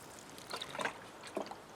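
Water poured onto soil in a container herb garden, short trickling splashes in two or three brief bursts, close and soft against a quiet background.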